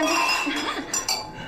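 Glasses clink together during a celebratory toast at a dinner table, two bright ringing taps close together near the end, following a soft scrape and faint background sounds.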